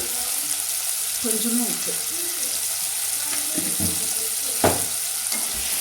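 Tomatoes sauté with salt and turmeric in a pan for a green lima bean kuzhambu. A soft, continuous sizzle runs under a person speaking, with a brief louder stir or scrape near the end.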